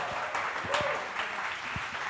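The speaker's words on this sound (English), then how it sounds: "Round of applause, please." Audience applause for a third-year artist introduced at the Puregold Lounge 2018 event: a steady wash of clapping from a crowd, continuous and moderately loud for a couple of seconds.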